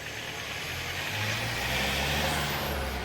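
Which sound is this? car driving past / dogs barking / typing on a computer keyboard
car driving past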